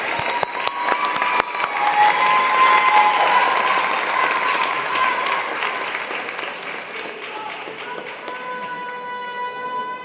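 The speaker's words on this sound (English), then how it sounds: "let's continue with a round of applause for all of our Rupe graduates" An audience at a 2023 college commencement in Jo Ann Rooney Hall gives sustained applause for the graduates, the dense clapping swelling and then gradually thinning, heard from within a large crowd.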